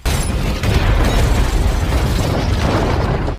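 A loud, sustained explosive roar with rumbling low-end booms and crackling bursts from a car exploding in a film, dense and unbroken for a few seconds before stopping suddenly.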